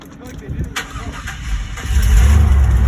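A Chevrolet Silverado pickup engine cranks and fires, settling into a louder steady idle that rumbles up close, with people talking over it.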